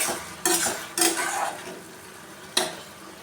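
Bottle gourd pieces fry in hot oil, a constant sizzle broken by three sharp scraping stirs of a spatula against the pan, close and fairly loud with no talk.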